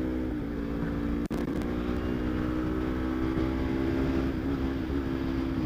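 A carbureted Kawasaki Ninja 250 engine drones steadily while riding at high gear, a loud continuous hum with sustained tonal harmonics and one brief dropout, no talking.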